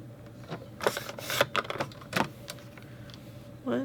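Scissors cutting paper triangles for a scrapbook, a quick cluster of crisp snips and rustles, close and fairly quiet, with a short pause between bursts.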